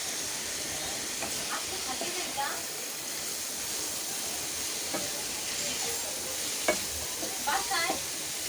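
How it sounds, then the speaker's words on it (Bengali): Vegetables with added carrot and green chili sizzle steadily in a hot pan, a constant bright hiss punctuated by scattered clicks and stirring scrapes, with occasional spoken words under the frying. "এগুলো মোটামুটি ভাজা হওয়ার পর এখন আমি দিয়ে দিচ্ছি গাজর, দিয়ে দিচ্ছি কাঁচামরিচ"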